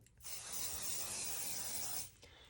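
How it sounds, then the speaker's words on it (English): Stencil adhesive sprayed from an aerosol can about six inches from a stencil for cardstock crafting: one steady, close, loud hiss lasting about two seconds, then cutting off abruptly, with no talk. "So just shake it up and spray about 6 inches from your stencil"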